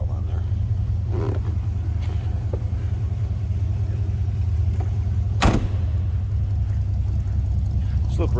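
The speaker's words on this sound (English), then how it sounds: "little rumble coming out of that 283" A 1957 Chevrolet Bel Air four-door sedan with its 283 V8 idles with a low, steady exhaust rumble, a constant deep throb heard near the rear of the car, with a brief click partway through.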